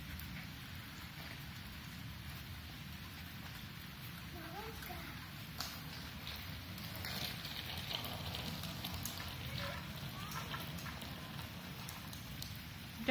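Rain from a surprise downpour falling steadily outdoors, a constant soft hiss and patter that stays fairly quiet, with people talking faintly over it.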